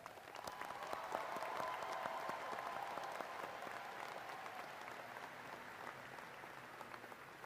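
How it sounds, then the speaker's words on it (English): At a college commencement ceremony, a large audience applauds faculty and staff with sustained, even clapping that spreads through a big hall, steady from start to finish. "please join me in recognizing them with your applause"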